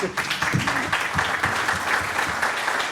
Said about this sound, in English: I want to give another round of applause